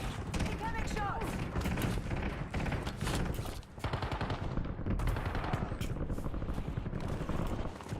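Dense, nonstop gunfire in Warzone, automatic bursts and single shots mixing with thuds, with a brief dip in the middle and voices speaking underneath.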